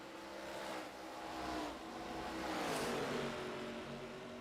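Race car engines at Dover Motor Speedway during a short track event, faint distant whine of engines rising and falling as cars sweep past in waves.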